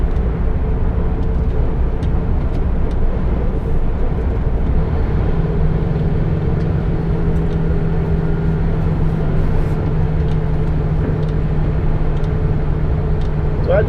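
A large-goods lorry cab's diesel engine drones loud and steady from inside while pulling away on a road in Exeter, a continuous low rumble with a slight rise in pitch partway through.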